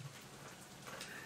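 Soft, steady rainfall in the visual novel Katawa Shoujo, a quiet continuous patter with no voices.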